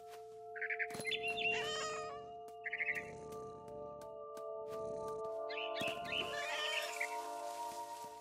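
A cat meows several times in the video game What Remains of Edith Finch, short mewing calls in separate bursts over a steady tonal game hum, with a louder rustling burst near the end.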